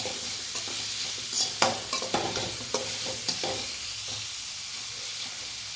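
About a quarter kilo of cut small onions sauté in a pan, giving a constant loud sizzle broken by repeated scraping stirs and a few clinks, with no talking.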